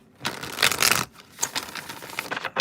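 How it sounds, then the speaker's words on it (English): Tarot cards riffled and shuffled in quick bursts of papery flutter and soft slaps, close by, with brief pauses between. "All right, last shuffle."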